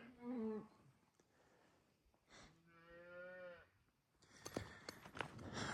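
A few cattle moo at an old corral on a desert ranch, several drawn-out calls spaced apart, fairly faint and distant, with scattered clatter and rustle near the end.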